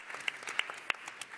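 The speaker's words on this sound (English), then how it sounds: "yes, applause." Conference audience applauding, a scattering of distinct claps from a modest crowd in a hall, sharp irregular hand claps layered over a softer wash of clapping.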